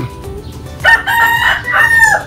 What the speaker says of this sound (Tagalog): Sorry sa background, daming manok.